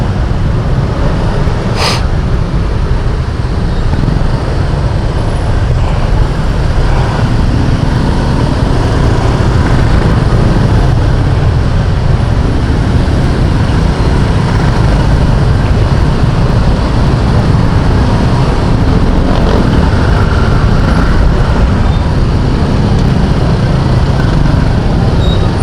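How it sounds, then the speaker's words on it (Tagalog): Dense road traffic on the Molino III flyover in Cavite, where road works are under way, forms a steady, loud, broadband rumble of engines that holds for the whole stretch with no clear single passes and no talk. "Traffic na, no?"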